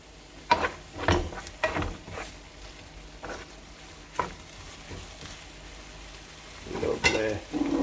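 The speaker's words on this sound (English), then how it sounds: "Give it a bit more of a stir through." Scrambled tofu sizzles softly in a pan while a utensil stirs it, with several distinct scraping knocks and clatters over the gentle frying hiss.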